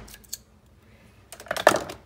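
Scissors cut open the plastic lid of a Ranger acrylic gloss spray can, giving a few faint snips followed by a louder cluster of crunching, clicking cuts near the end.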